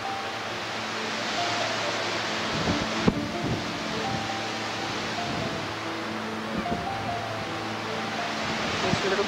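Wind-driven waves with whitecaps on open water make a steady broadband surf wash, with wind buffeting the microphone and a few faint knocks.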